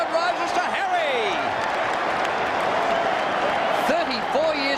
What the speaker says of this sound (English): The crowd rises to Harry.